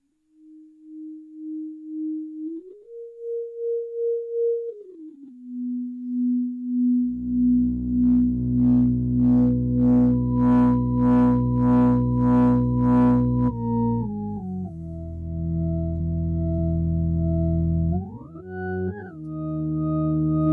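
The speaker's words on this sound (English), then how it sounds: "I think this is a phase shifter." A Moog Theremini playing smooth, pure sliding tones, then layered with bass and pulsing, swirling modulation from a phase shifter effect, with pitch glides near the end; loud and close, no voices.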